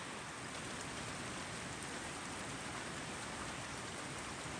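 Steady rain falls on puddles in a yard on Hawaii's Big Island, a continuous even hiss of drops close by with no voices or other sounds over it.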